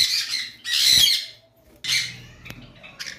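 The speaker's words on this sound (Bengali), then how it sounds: "এইখানে একটা ক্রিমসন বেলি কুনুর দেখতেছি" Crimson-bellied conure at a bird farm giving harsh, loud squawks in three bursts, close by, with brief quieter gaps between calls and no talk.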